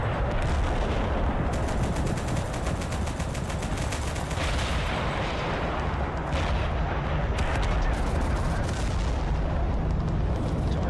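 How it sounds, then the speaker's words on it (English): A team in the war game Total Conflict Resistance fires without pause, a dense roar of overlapping gunshots and automatic fire with heavy booms, loud and continuous throughout. "No idea why that team is firing all the way over there for."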